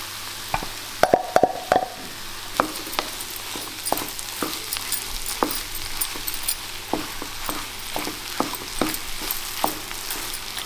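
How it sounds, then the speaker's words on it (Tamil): Boiled mashed potato stirred into onions frying in a pan, with a steady sizzle and repeated close scraping and plopping stirs. "உருளைக்கிழங்கு போட்டுக்கிறோம்."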